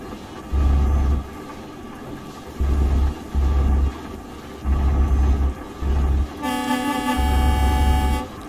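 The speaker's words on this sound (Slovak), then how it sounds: "Ale trúbi poriadne, tak normálna, taká normálna trúba" MAN TGX truck horn in Euro Truck Simulator 2 honks in several loud blasts, short and long, over a steady engine rumble, ending in a brighter, higher horn tone.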